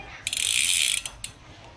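The rear hub freewheel of a Giant TCR Advanced road bike with 11-speed gearing gives off a fast, loud ratcheting buzz for under a second, then two short clicking bursts, heard up close.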